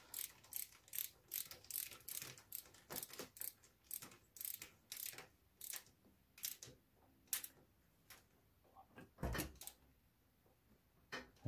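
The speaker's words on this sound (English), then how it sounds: "this is the last one on the left hand side which I'm gonna tighten." A hand ratchet tightens a rocker cover bolt on a Honda CG125 motorcycle, giving a run of sharp, close clicking bursts in an uneven rhythm with a heavier clunk near the end, fairly quiet overall.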